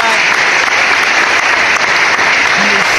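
Applause on a basketball podcast, a short burst of dense, steady hand clapping lasting about three seconds, loud and close.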